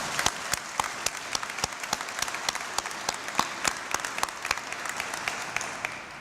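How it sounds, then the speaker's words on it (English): An audience claps steadily for Georgia's governor at a signing ceremony, a sustained run of dense applause with sharp individual claps standing out, fading slightly at the end. "Please join me in a great round of applause for Governor Cagle."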